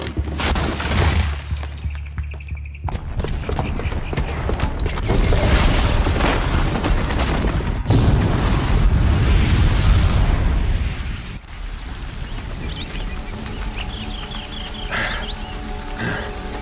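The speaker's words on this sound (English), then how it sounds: "the booby trap on the bomb downstairs is gonna get set off" A bomb goes off in Horizon Zero Dawn, a heavy, sustained roaring blast with rumbling debris that rolls on for several seconds before fading into a lingering crackling tail.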